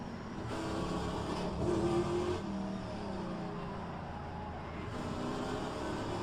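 A Pontiac race car screams around the Road Atlanta circuit, its engine a steady high-pitched roar with small rises and dips in pitch, holding loud and continuous from start to end.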